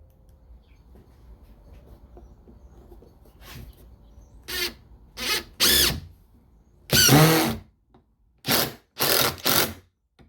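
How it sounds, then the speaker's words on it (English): A power drill drives pocket hole screws to join two pieces of wood, firing in several short whirring bursts of varied length, one longer, separated by quiet pauses, close and loud. "all we have to do is screw the two pieces together like this"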